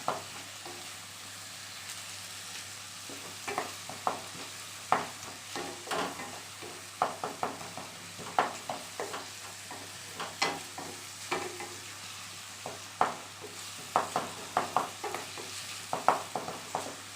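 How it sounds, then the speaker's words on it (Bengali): Sliced onions fry in a pan for Katla fish kalia, with a soft continuous sizzle under repeated sharp clinks and scrapes of a spatula stirring, close up, with no talking. "তো পেঁয়াজটা ভাজা হচ্ছে দেখুন"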